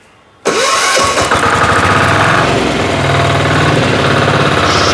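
A two-wheel walk-behind tractor engine, set up to pull a passenger trailer, bursts to life after a moment of quiet and keeps running loud and close with a steady, rough mechanical drone.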